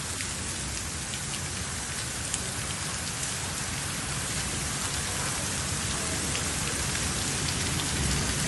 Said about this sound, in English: it's raining super fast in Dallas